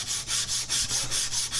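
Rhythmic back-and-forth rubbing of abrasive paper on an AEB-L stainless steel chef knife blade, wet-sanded with soap and water, with about seven even strokes, close and steady, and no voices.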